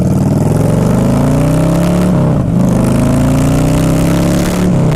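A 2011 Harley-Davidson Fat Boy Low motorcycle rides at speed with a loud, continuous engine roar, a brief dip as the throttle eases and then a swell again, heard close with wind noise.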